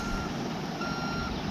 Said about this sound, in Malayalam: റിവേഴ്സ് എടുക്കട്ടെ